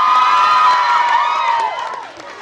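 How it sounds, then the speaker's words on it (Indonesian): Crowd at a fun fair in Gandaria City cheering and applauding loudly, a dense wash of clapping, shouts and children's voices that fades down toward the end. "Tepuk tangan sekali lagi untuk Alex."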